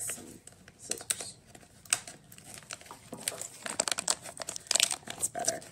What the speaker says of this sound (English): All right, I'm going to open them with some scissors.